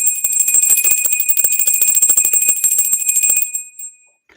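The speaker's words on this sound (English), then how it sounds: "we're always ringing the bell" A small bell is rung rapidly and continuously, a loud, bright, shimmering jangle of quick strikes that carries on for several seconds before stopping and ringing out briefly.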